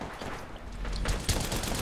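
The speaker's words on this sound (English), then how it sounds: "You can't stop my hemlock, dude. That just sounds like an assault rifle." Hemlok rifle fire in Apex Legends: dense, rapid bursts of gunshots crackle continuously, loud and close, with sharper shots near the end.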